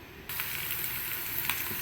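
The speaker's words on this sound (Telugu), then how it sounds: "సో ఇప్పుడైతే ఆయిల్ వేడైంది, మనం ఇంగ్రీడియంట్స్ స్టెప్ బై స్టెప్ అయితే వేసేద్దాము." Spices for temple-style lemon rice drop into hot oil and burst into a loud, steady sizzle that starts abruptly and holds, with a few small pops, close up and alone.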